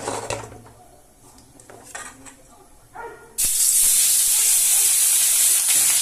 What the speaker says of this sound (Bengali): তেলটা গরম হয়ে গেছে, এবার আমি মাছগুলো একে একে দিয়ে দিচ্ছি